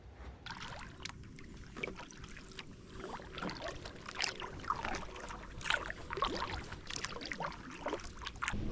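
Canoe or kayak paddling on calm water in the early morning, soft drips and gentle splashes from paddle strokes scattered over a quiet background, close and faint, without talk.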